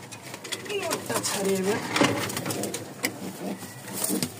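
A pair of pigeons being offered for sale coo softly in short, throaty bursts near the listener while someone talks over them continuously.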